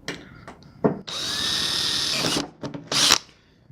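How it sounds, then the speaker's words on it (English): A power drill whines steadily for over a second as it bores through a metal cargo carrier while installing a 42-inch LED light bar, framed by short clanks and handling noises, with a final brief burst of drilling. "You're going to want to make sure you drill through that too."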